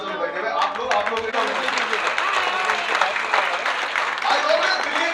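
A large audience of about 550 at a Modicare workshop applauds, dense continuous clapping filling the room with a voice speaking over it.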